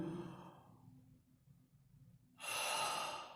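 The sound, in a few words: breathing in and out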